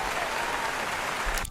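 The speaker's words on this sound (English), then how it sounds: "Hey, round of applause for me." A short, dense burst of clapping from a crowd fills the moment at close range, then cuts off abruptly.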